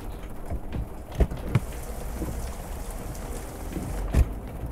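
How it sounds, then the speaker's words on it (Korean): Heavy rain pours steadily on the surfaces outside, a dense close hiss broken by a few sharp louder drops or knocks, with no voices. "비 많이 온다."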